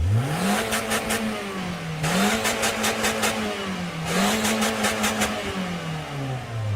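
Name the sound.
1.5-liter off-road vehicle engine revving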